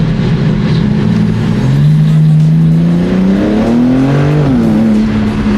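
A BMW G80 M3 accelerating hard, heard from inside, with a loud engine note climbing through the revs, a brief dip at a gear shift, then pulling on.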